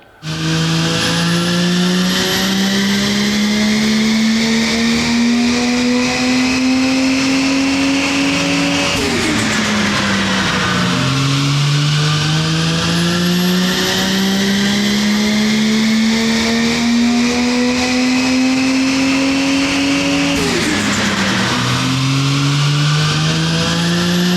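A Ford XR6 ute's engine revs loudly and climbs through the gears as it pulls away, its pitch rising and dropping at each shift, up close and continuous with no talk.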